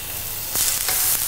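Thin lamb fillet frying in hot oil in a pan, a steady close sizzle that flares in a few brief bursts as the meat shifts.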